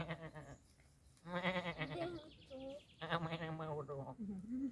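Several wavering, nasal sheep bleats follow one another in quick succession, loud and close, with brief pauses between calls.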